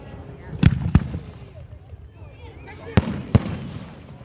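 Canada Day fireworks explode in two pairs of sharp, loud booms, with a person talking between the bursts.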